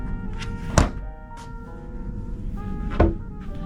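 Two solid thunks from a small refrigerator door in a cruise ship cabin on Royal Caribbean's Odyssey of the Seas, one early and one near the end, close by over a quiet hum.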